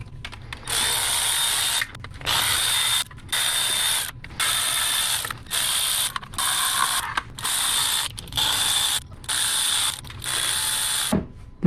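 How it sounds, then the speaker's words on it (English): Ratchet with an 8mm deep socket clicking rapidly in ten steady bursts while backing out valve cover bolts on a 2002-2006 MINI Cooper S R53, each burst about a second long with brief pauses between, close and fairly loud. "Now we can remove the bolts holding on the valve cover."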